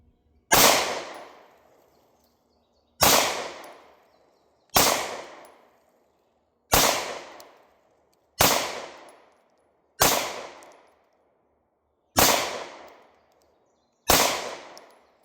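A Hi-Point C9 pistol is fired at a target outdoors: eight sharp, loud single shots, each followed by a quickly fading echo, spaced one and a half to three seconds apart.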